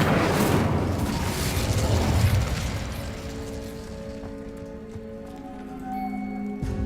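A fire spell is cast in Hogwarts Legacy, a loud fiery burst and roar for the first couple of seconds that fades into a low crackle, with sustained game music tones lingering underneath.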